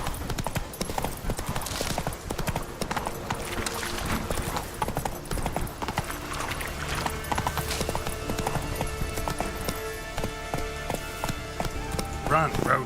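Roach, Geralt's horse in The Witcher 3: Wild Hunt, gallops with steady, rapid clip-clop hoofbeats throughout, set against busy game music and ambience, with voices speaking over the top.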